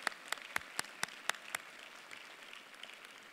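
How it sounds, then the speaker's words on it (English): Applause from students' families at a 2019 university honors convocation: a quick run of sharp, fairly faint hand claps from a small group, ending after about a second and a half in a quiet hall. "Please join me in giving these students a round of applause."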